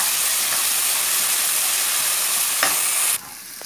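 Onion with ginger-garlic paste sizzles loudly and steadily in a pan while being stirred, a dense frying hiss with a brief scrape near the end before the sound drops away.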